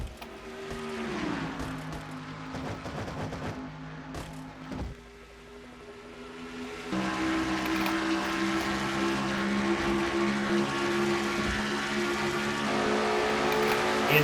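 Race cars in a NASCAR-style racing video game running laps at Pocono in the Castrol GTX Cup Series, engines droning steadily with rising and falling pitch as the cars shift and pass, loud and continuous with no talk.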